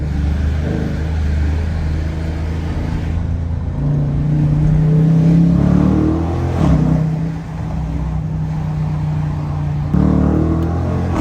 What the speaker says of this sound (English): I haven't realized that my car is actually kind of loud.